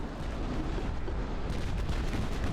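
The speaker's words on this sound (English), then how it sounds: "my heavy cruisers took torpedo hits" Torpedo hits striking heavy cruisers during a naval battle in the warship game Ultimate Admiral: Dreadnoughts, a dense, loud rumbling barrage of booming impacts that runs continuously and swells slightly partway through.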